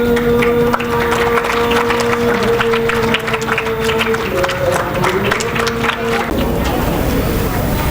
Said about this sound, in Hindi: इन तमाम बच्चों की हिम्मत अफजाई के लिए आप तालियां कर बजाएं